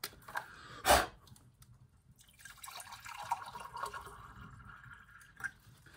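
Water is poured into a cup for hot chocolate outdoors near a fire: one sharp splash, then a faint, uneven trickle and drip under soft background noise, with no talking.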